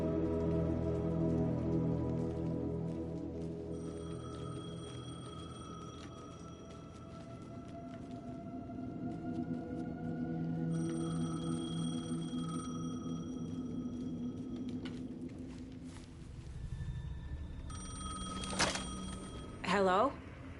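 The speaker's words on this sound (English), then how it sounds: "The payphone was ringing." A payphone ringing in the Alan Wake 2 video game, its repeated high electronic rings cutting in and out over a dense, droning musical backdrop.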